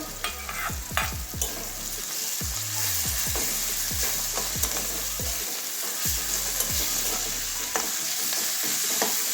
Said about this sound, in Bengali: এবারে কষানো মশলাটা দিয়ে আবারও কষিয়ে নেব ভালো করে।